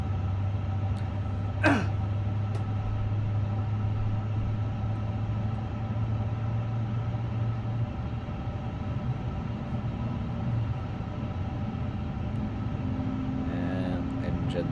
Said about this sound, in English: And engine number 1 is firing up great.